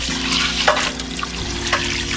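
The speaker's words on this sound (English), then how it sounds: "I like to wash out the cavity with a lot of cold water" Cold tap water pours and splashes while rinsing out a turkey cavity in a sink, a loud, continuous running-water sound with brief sloshing bursts close by.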